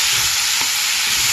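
Cucumber, drumstick and tomato curry with green chilies and ginger-garlic paste stirred in a sizzling pan, a brief scrape of the spoon over a continuous hiss of frying.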